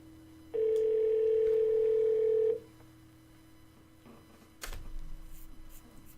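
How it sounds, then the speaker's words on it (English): Phone placing a call through Google Voice: a steady, clear tone of about two seconds, then a quiet pause and a faint rustling hiss with no voices. "So I'm going to start dialing now."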